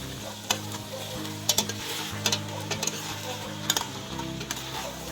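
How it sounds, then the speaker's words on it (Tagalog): Chicken and tomatoes sizzle steadily in a hot pan, with a utensil repeatedly scraping and clinking against the metal in irregular strokes, close and clear, without speech. "Gisa-gisahin lang din muna nang sa ganon ay pumasok yung lasa ng kamatis sa karne."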